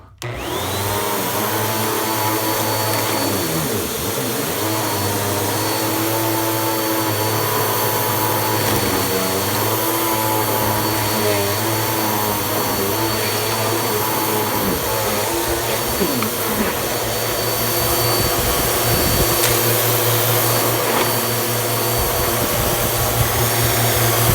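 A Bissell 9595A upright vacuum cleaner running loud and steady at close range, a constant motor whine with slight shifts in pitch as it moves, no talk.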